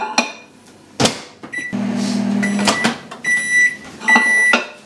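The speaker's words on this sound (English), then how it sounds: "I'm just going to microwave this and melt the chocolate chips and the coconut oil" Microwave oven running while melting chocolate chips with coconut oil for a keto dairy-free cake, with a steady low hum, door clunks and repeated beeps near the end, close and fairly loud.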